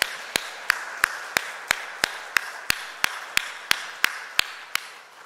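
In a church service, clapping for a string ensemble and choir comes as a steady, evenly spaced beat of crisp single claps, about three per second, in unison, fairly faint with nothing else behind it.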